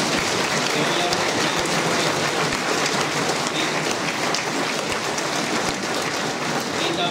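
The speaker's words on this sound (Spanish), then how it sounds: "Antes quisiera que les diéramos un fuerte aplauso," A church congregation at a patronal feast Mass gives the children a strong round of applause, dense, even clapping filling the space steadily throughout.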